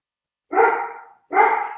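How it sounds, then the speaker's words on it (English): A very big dog barks twice at home during an online call, two close, loud, separate woofs about a second apart against silence. "My dog is barking at me"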